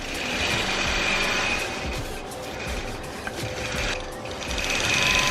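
A longarm quilting machine stitches an antique quilt with a steady, continuous mechanical hum and rattle that swells and eases slightly as it runs, close and fairly loud, with no talking.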